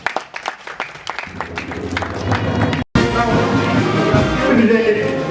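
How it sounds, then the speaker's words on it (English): An audience at a judicial ceremony breaks into applause, beginning with a few sparse claps and swelling into dense, steady clapping mixed with crowd noise. "Let's clap for him."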